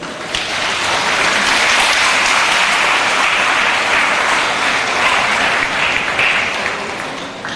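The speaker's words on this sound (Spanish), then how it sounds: "Eu quero que mereça um aplauso muito mais forte, não?" Loud sustained applause from an audience at a live broadcast assembly, a thick wash of clapping that holds steady throughout and tails off slightly at the end.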